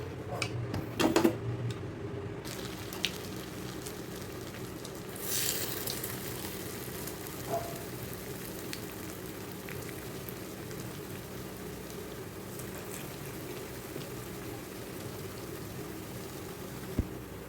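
Urad dal vada frying in hot oil, a steady low crackling sizzle with a few louder clatters early on, continuing evenly and moderately faint throughout.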